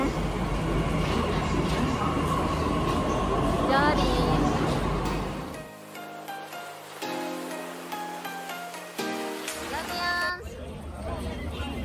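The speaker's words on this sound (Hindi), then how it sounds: "यही इसी मेट्रो में आए थे, अभी ये निकल रहा है, निकलने वाला है, निकल रही है, जा रही है।" A metro train pulling out of a station in New Delhi: a loud rolling rumble for the first five seconds, then fading, followed by quieter platform ambience with electronic tones and chimes.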